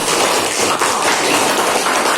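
A classroom group of students and teachers bursts into dense, steady applause, loud and close, sustained without a break.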